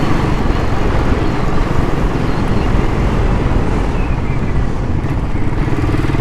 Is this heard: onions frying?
no